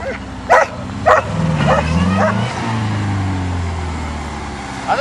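A dog barks a few times in quick yips over a steady engine drone from a Saturn car, the barks loud and close.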